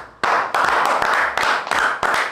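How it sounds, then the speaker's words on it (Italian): Loud, close hand claps land in a regular rhythm of about six sharp bursts, each ringing briefly before the next. "Che applauso!"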